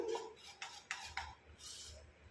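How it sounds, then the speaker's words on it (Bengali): A knife chopping green chilies and onion on a board for oats cheela: several quiet, close cuts in an uneven rhythm, with a soft scrape of the blade at the end. "আমি কাঁচা লঙ্কা আর পেঁয়াজটা ততক্ষণে কুচিয়ে নিচ্ছি"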